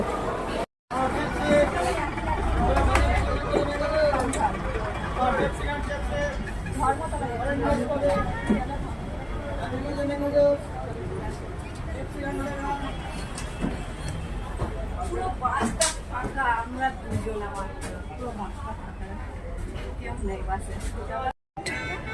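Crowd noise at Howrah railway station: a dense, steady hubbub of many overlapping voices and general station commotion, with distant vehicle rumble mixed in, continuous and fairly loud throughout.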